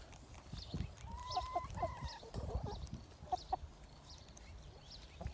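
Chickens cluck softly close by in a busy farmyard, with short repeated clucks and a few higher calls over low background rustling.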